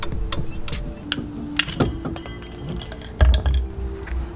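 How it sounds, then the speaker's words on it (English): A spring clip is popped off a brake pad on the caliper of a MK4 Volkswagen GTI 1.8T, giving a few light metallic clicks and clinks, with a dull knock near the end, close by and with no talk. "Now I'm gonna just pop this clip off so that I can remove this pad."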